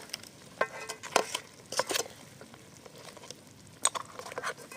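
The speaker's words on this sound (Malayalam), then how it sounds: "ഇപ്പോൾ ഇതാ നമ്മൾ ഞണ്ട് നന്നായിട്ട് വെന്ത് വന്നിട്ടുണ്ട് ഇളക്കി കൊടുക്കാട്ടോ" Crab roast in a pan, Kerala style, stirred with scattered scraping clinks of a spoon against the pan over a soft sizzle, quiet and close with no talking.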